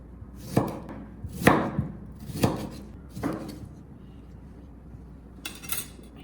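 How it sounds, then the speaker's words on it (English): A kitchen knife chops tomatoes into bite-sized pieces on a cutting board, giving about five distinct, fairly soft thuds spaced unevenly with quiet pauses between, no talking. "I will cut the tomatoes into bite-sized pieces to make them easier to cook and store."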